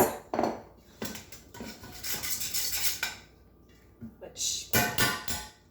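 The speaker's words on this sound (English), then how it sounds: "we're going to take a half cup of butter and cream this" Half a cup of butter creamed by hand in a bowl, with a utensil scraping and clinking against the bowl in irregular bursts while a person talks briefly.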